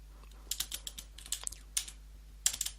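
Typing on a computer keyboard, close and fairly quiet: irregular bursts of key clicks in short clusters with brief pauses between them, no talking.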